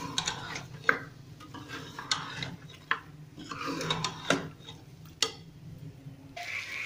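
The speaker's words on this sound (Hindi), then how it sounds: "एक मिनट के लिए मसालों की गोश्त के साथ भुनाई करेंगे" Mutton being stir-fried with spices in a pot over low to medium flame, a spoon scraping and knocking against the metal in irregular taps over a soft sizzle, close by, without voices.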